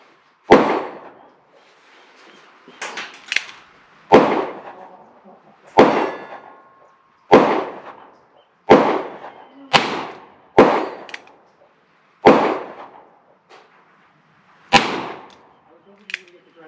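A Ruger Blackhawk revolver fires cast Lyman 358-caliber wadcutter bullets of about 140 grains, giving about ten loud, sharp reports at irregular intervals. Each shot has a short ringing decay.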